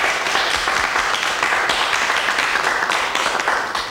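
A studio audience on a TV word-and-numbers game show claps for contestants Frédéric and Hervé, a loud, even wash of applause that holds steady throughout with no voices over it.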